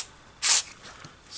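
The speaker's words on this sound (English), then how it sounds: "I do want to use some contact cleaner to spray" Contact cleaner sprayed onto the wheels of an original Game Boy with a no-power fault, one short, loud, close hissing burst lasting about a fifth of a second, with quiet before and after.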